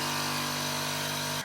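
Power tool cutting a template for a cork and acrylic stool, a loud, steady whining drone that runs unbroken before cutting off sharply at the end.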